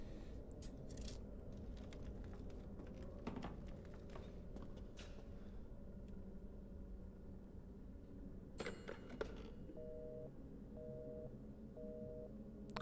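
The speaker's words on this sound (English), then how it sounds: "Oh, the phone's engaged." A telephone engaged tone beeps in the video game Resident Evil Village, three short, faint, evenly spaced beeps over quiet background clicks and rustling.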